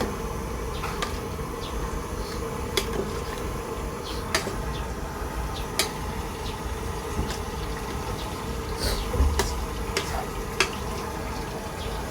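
Pork sautés steadily in a hot pan with chili, a continuous frying hiss with occasional sharp clicks and scrapes of stirring throughout.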